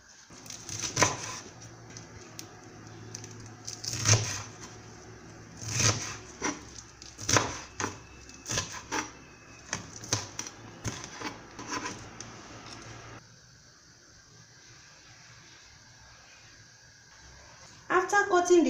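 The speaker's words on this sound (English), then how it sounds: "You can slice this garden egg to your desired size." A knife slices garden egg for African salad (ukana) in an uneven series of close cutting thuds that stop after about thirteen seconds, leaving quiet before a brief louder rustle at the end.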